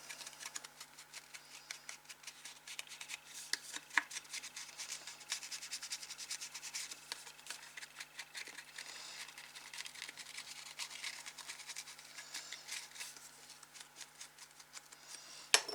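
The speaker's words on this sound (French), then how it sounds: "Donc déjà, j'encre les bords." An ink pad is rubbed steadily along the edges of paper for a Christmas place card, making a soft, close, continuous scratchy brushing with no talk.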